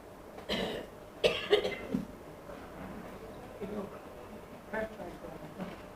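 A few harsh coughs close by, a cluster in the first two seconds and another brief one later, amid quiet room noise.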